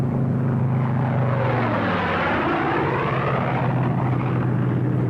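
Republic P-47 Thunderbolt, a large World War II single-engine fighter, flying past with a loud, steady propeller engine drone whose pitch sweeps as it passes, continuous and close throughout.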